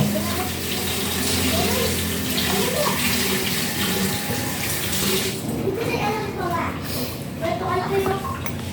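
Food is rinsed under a steadily running kitchen tap while dinner is cooked, a continuous close splashing and gushing of water with people talking over it.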